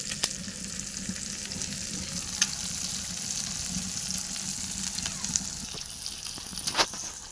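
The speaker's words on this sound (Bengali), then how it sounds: "এবার আমি মাংসটা সেদ্ধ করার জন্য জল দিয়ে দেবো, গরম জল।" Sautéed country chicken meat in a pan gives off a steady, close sizzle of frying, with a few faint clinks of utensils along the way and no voices.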